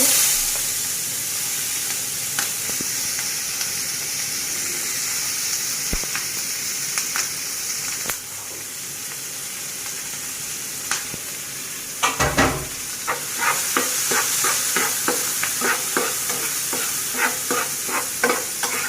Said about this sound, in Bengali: এখন আমি পেঁয়াজ কাঁচামরিচ দিয়ে দেব।